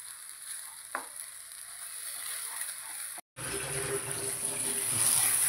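Food sizzles steadily in a hot pan while being stirred, with a brief clatter near the start and a short gap before the frying comes back louder and denser, close by with no talking.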